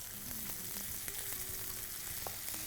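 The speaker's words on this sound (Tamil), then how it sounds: "பச்சை மிளகா வதக்கிறோம், 2 பச்சை மிளகா" Two green chilies and ginger garlic paste sautéing in oil, a soft, even sizzle throughout with faint scattered clicks of stirring, quiet and steady, no voices.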